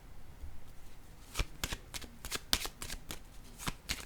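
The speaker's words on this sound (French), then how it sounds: "Je vais déposer une carte ici." Tarot or oracle cards being handled and laid down during a card reading: a quiet run of crisp flicks and soft slaps, close up, with no talk.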